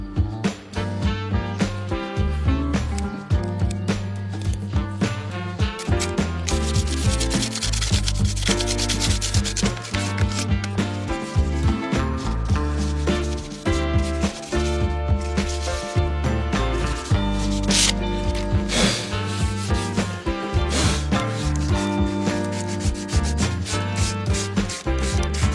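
Light hand sanding around the base of a motor mount on a float tube, a steady, close, continuous rubbing that carries on without pause.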